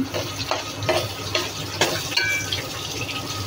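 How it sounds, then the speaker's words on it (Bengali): Onion with salt, chili and turmeric powder sautéed in a pan, a moderate frying sizzle with intermittent stirring scrapes, close and without talk. "এগুলো কষতে থাকুক"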